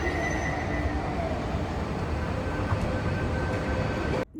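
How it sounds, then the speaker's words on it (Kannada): A metro train arrives at a station with a loud, steady rumble of wheels on rail and faint high squeals, the noise running close and continuous before cutting off abruptly at the end. "ಮೆಟ್ರೋ ಬಂತು."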